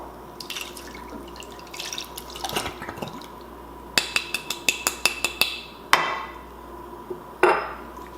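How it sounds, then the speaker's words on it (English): Home-canned jambalaya is poured from an opened jar into a pot to be warmed, with splashing liquid, thick dripping and several sharp clinks of glass against metal, recorded close up. "Pour it in to warm it up."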